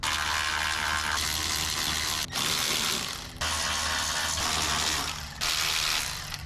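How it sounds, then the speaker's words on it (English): Ratchet wrench backing out 10mm bolts on a Chevrolet Suburban, heard as loud, close, steady clicking in three long bursts with brief pauses between, no voices. "Next thing we're going to do is remove these 6 10mm bolts."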